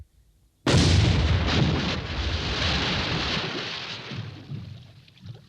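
A single heavy blast from the demolition gun of an AVRE armoured engineer tank, a sudden loud boom that rolls into a long rumbling, thunder-like decay over several seconds, with no voices.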